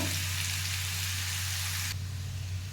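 Potato pieces frying in a pan, a steady dense sizzle under a low hum, continuous and fairly close, then thinning slightly toward the end.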